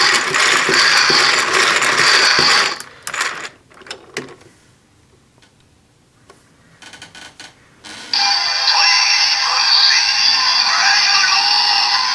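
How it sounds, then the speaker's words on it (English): The crank of a DX Prime Rogue Full Bottle toy from Kamen Rider Build is turned, giving loud, rapid ratcheting clicks. After a pause with a few scattered clicks, the ratcheting starts again and runs steadily to the end. "while I was rotating the crank, the Prime Rogue bottle made a GABU, or biting sound"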